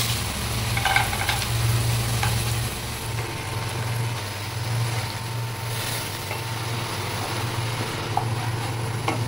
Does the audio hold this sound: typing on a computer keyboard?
no